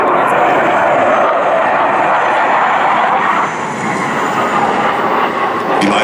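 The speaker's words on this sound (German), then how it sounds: "an intruder aircraft has been spotted, in this case a PC-9" A PC-9 intruder aircraft is escorted by Eurofighter jets during a live-flying air show exercise, producing a steady, loud, broad engine roar that holds continuously with only slight dips.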